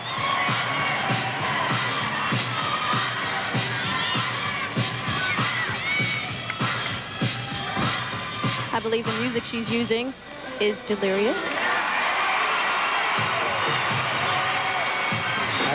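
A big arena crowd at an NCAA gymnastics Super Six Challenge cheers and roars continuously through the whole stretch, loud and dense, with an announcer talking over it.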